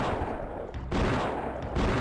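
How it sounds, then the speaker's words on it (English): Gunfire in the first-person shooter Blood: Fresh Supply comes as two dense, booming bursts of rapid shots separated by a brief lull, loud and close with no voices. "You can often hear monsters and gunfire made by other players as if you were that player rather than only from your location."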